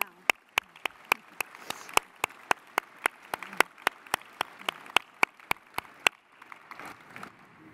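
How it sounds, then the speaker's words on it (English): Convocation-ceremony applause for family and friends, with one nearby pair of hands clapping in a sharp, even rhythm over softer crowd clapping, stopping after about six seconds while the background applause trails on. "give a round of applause to the people who helped get you here"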